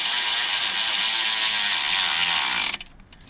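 A hand ratchet clicks in a fast, continuous run while tightening the clamp on a small turbo in a car's engine bay, then stops abruptly.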